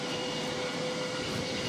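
Airplane engines run steadily at Boston Logan airport, a loud, constant roar with a faint whine and nobody speaking.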